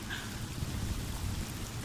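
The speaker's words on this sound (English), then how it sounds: "It's raining." Steady rain falls outdoors, a dense, even wash of patter with a low rumbling undertone, constant throughout with no voices.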